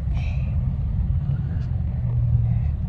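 Heavy traffic rumble on a busy road as a car passes, a loud continuous low engine drone filling the whole stretch with a faint horn-like tone near the end.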